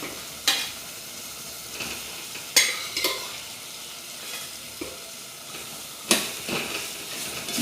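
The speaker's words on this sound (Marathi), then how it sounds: "परतून घेते आता त्या पिसा" Mutton pieces sautéing in a pan, a continuous soft sizzle with scattered scraping stirs and a few sharper utensil knocks, close and moderately quiet.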